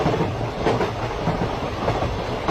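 Animated train running on rails, a steady rumbling roll with faint clickety-clack throughout, even and continuous.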